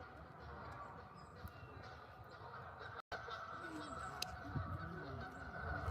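Canada geese honk in scattered calls at a distance over a steady outdoor background hum during a solar eclipse in Cleveland, Ohio.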